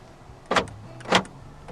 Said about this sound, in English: This car does have power folding side mirrors.